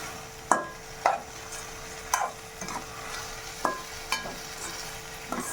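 A spoon clinks against a cooking pot while stirring washed rice and pigeon pea beans together, about nine distinct scraping taps in an uneven rhythm, close and fairly quiet, with no talking.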